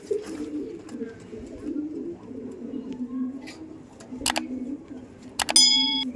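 Low soft cooing from moulting pigeons murmurs throughout, close by, with a few sharp metallic clinks and dings near the end.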